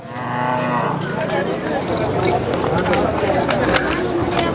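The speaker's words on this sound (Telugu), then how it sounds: "థర్డ్ లాక్టేషన్ కవ్ ఇది" A Jersey cross-breed cow in her third lactation moos at the Kondamadugu livestock market, a long, loud, close lowing call heard over voices and background chatter.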